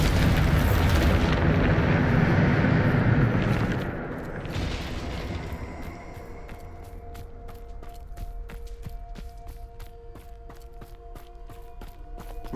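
Hogwarts Legacy video game, Bombarda blasting spell: a loud, heavy explosion roars for several seconds, then fades into a lingering rumble with scattered ringing clinks and debris-like ticks.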